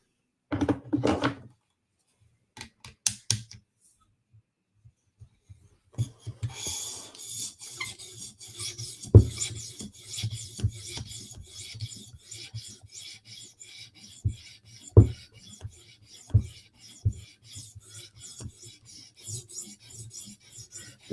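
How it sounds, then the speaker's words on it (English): A knife blade is sharpened on a 400 grit whetstone: short rasping strokes at first, then after a pause a long run of rhythmic, close grinding passes broken by a few knocks. "Now we're going to switch to 400 grit stone."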